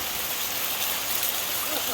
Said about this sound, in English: It's a beautiful waterfall, isn't it?